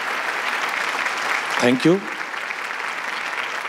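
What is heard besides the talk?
audience applause for the charcoal painting artist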